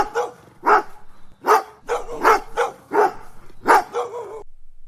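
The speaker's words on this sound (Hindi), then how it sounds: "रास्ते में कुछ जंगली कुत्तों ने घेर लिया" Wild dogs in an animated story bark in a quick, uneven series of about eight loud, close yaps and bow-wows, with no talking.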